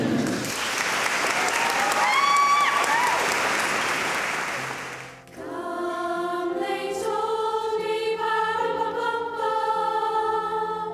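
A college society crowd bursts into loud, close applause for about five seconds, which fades out as music with clear melodic tones takes over for the rest.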